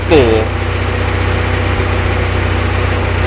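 Volkswagen engine fitted with a Solex 34 PICT 4 carburettor, idling with a steady low hum and vibration; a brief higher whine sounds at the start.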